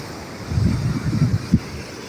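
Sea waves wash over a rocky shoreline at Pudumadam beach, a steady, close, low surging rush mixed with wind buffeting the microphone and one brief louder splash.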